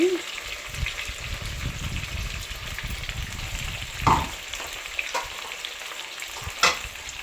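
Stuffed brinjals coated in spice paste fry in oil for a Gutti vankaya curry, a bubbling sizzle with stirring clatter and a couple of louder splashy bursts, close up.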